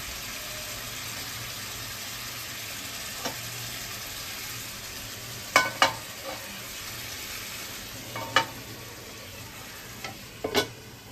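Potol korma (pointed gourd curry) cooks covered on low heat, a faint continuous simmering hiss broken by scattered sharp clicks and rattles, clustered toward the second half.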